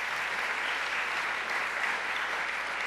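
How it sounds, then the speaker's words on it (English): Steady, dense audience applause fills the whole stretch evenly at a civic gathering about redeveloping a former Syracuse developmental center site. No voices stand out. "Let's give her a round of applause."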